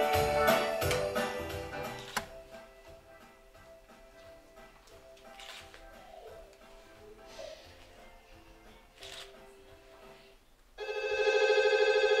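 A telephone rings with a bright, rapid bell trill at a children's St. Nicholas holiday show, loud at the start and again at the end, with a quieter stretch between.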